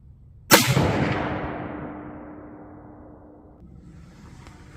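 A single loud rifle shot fired at a target through a CVLIFE 6-24x50 scope, a sharp close crack with a long fading echo rolling out over several seconds.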